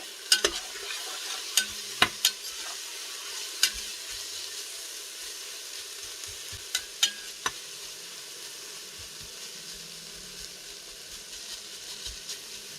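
Onions fry and caramelize in a pan, a soft steady sizzle broken by sharp utensil clicks and stirring taps, close and unaccompanied by speech.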